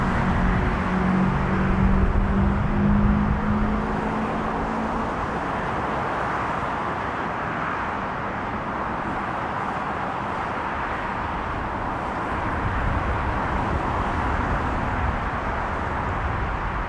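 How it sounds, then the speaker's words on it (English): Steady roar of highway traffic, a dense unbroken wash of passing cars with a low tonal hum early on, heard from nearby. "I can hear this highway."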